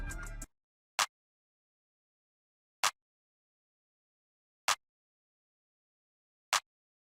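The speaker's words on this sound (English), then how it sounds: "Then I added a basic clap." A basic clap sample in an FL Studio beat hits four times alone on a steady, evenly spaced rhythm after a brief burst of other sound, each clap short, crisp and bright.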